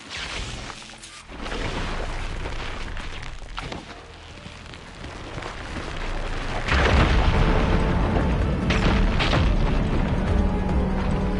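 Loud blast and rumbling burst in Horizon as a fire ignites to clear rubble, a sustained roaring explosion swelling midway and continuing with crackling debris.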